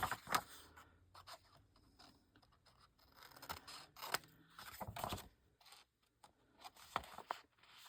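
Small scissors snip the corners of a paper postcard at a crafting table, a series of short, crisp cuts and light paper scrapes coming in separate bursts close by.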